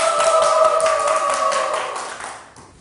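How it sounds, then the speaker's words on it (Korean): A TV lecture audience claps for a rock band member, a dense, steady patter of many hands with a sustained tone ringing over it, fading toward the end. "박수로 청해 듣겠습니다"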